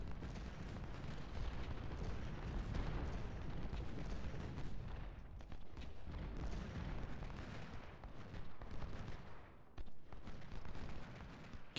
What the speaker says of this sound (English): Our Ironclads are here, they start to fire at the batteries